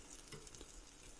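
Curry-coated tinned potatoes sizzle softly in an air fryer basket, a faint, continuous hiss with light crackle throughout, heard alone and fairly quiet.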